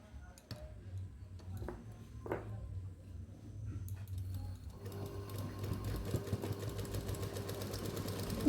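Sewing machine stitching a lungi, its motor a steady low hum with faint ticking, running more continuously and louder in the second half.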